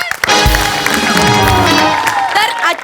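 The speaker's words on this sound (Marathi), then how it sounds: "जोरदार टाळी त्यांचं स्वागत करूया" A comedy show audience bursts into loud applause with cheers and whoops, a dense, close crowd roar sustained throughout with voices mixed in.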